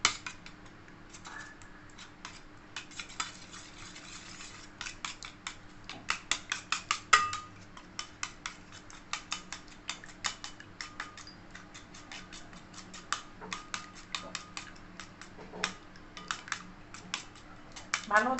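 Eggs seasoned with salt and pepper are beaten for chicken cutlet batter, a rapid stream of light fork-on-bowl clicks running throughout, quiet and close, with a faint voice in the background.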